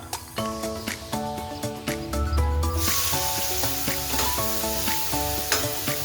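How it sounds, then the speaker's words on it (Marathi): Chopped onion drops into hot oil already crackling with cumin and mustard seeds, setting off a loud close sizzle that carries on steadily under background music, with no talking. "आता आपण टाकूया आपण चॉप केलेला कांदा."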